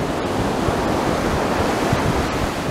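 Steady ocean surf washes continuously along the Pacific coast at Muir Beach, a dense, even roar of breaking waves with no distinct individual crashes, heard alone without voices.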